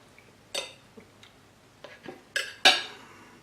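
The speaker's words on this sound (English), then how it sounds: "I'm going to cut into this and you can see what it looks like" A knife slices into a grilled USDA Prime steak cooked on a gas grill, giving a handful of sharp, close metallic clinks and scrapes against the plate, spaced irregularly and growing louder toward the end.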